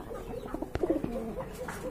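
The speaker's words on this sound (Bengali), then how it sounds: "দেখেন কবুতরগুলো অনেক সুন্দর, কিউট কবুতর" Pigeons for sale, including yellow Lahori birds, give a short soft coo with a faint rustle nearby, quiet and brief.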